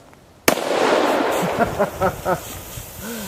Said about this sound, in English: let's shoot that can